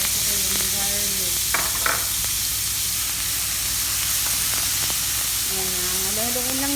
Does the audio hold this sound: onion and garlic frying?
yes